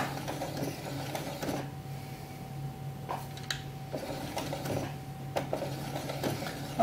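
Sewing machine stitching sheepskin for a doll's vest at a larger stitch length, running in short mechanical bursts of whirring with brief pauses between, fairly close and steady, with no talking.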